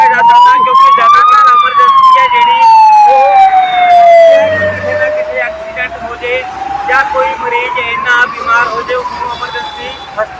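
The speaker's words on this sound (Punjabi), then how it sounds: "ਜਿਹੜੀ ਸਾਇਰਿੰਗ ਦੀ ਆਵਾਜ਼ ਆ ਰਹੀ ਹੈ ਇਹ ਐਮਰਜੈਂਸੀ ਸਾਇਰਿੰਗ ਹੈ" A loud wailing emergency siren sweeps slowly up and down nearby on a street in Bathinda, with a vehicle rumbling beneath it.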